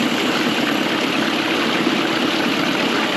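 An outboard motor idles in gear, running evenly throughout with a constant low rumble and no changes in pace, close and fairly loud.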